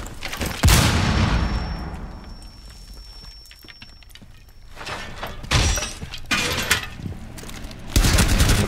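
Thrown grenades explode in a Rainbow Six Siege hostage mission, giving a few sharp bursts with debris and shattering, separated by quieter stretches and a lingering high ringing tone.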